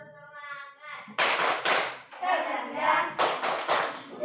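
A group in an ice-breaking session claps a lively spirit rhythm together, quick bursts of hand claps in short patterned groups, loud and close with voices mixed in.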